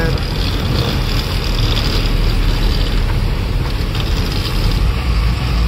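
Heavy rumble and wind roar from a very large truck hauling an oversized load along a road, loud and continuous with no breaks.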